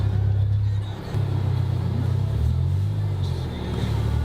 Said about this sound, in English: I need to drive.